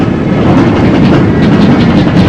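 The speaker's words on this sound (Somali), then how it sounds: "haatana waxaa soo muuqda dabaabadihi" Military tanks rolling past in a national army parade, a loud, steady rumbling engine and track roar close by, with faint rhythmic clatter and no talking.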